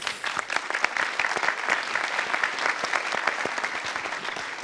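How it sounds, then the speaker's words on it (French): Audience applauding at a conference on collective energy self-consumption, a dense, steady round of clapping sustained throughout with a room-like spread. "On peut applaudir."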